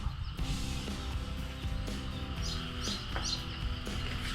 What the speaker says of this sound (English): That's a big old white bird.